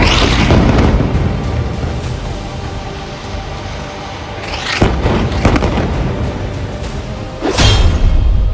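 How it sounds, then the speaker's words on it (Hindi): A bomb explosion brings down a building, heard as deep, loud booms. The blast opens with a heavy rumble, followed by further thudding bursts and crashing debris that roll on between them. "जब ये बम गिरता है तो ऐसा धमाका होता है जो पूरी बिल्डिंग को गिरा देता है"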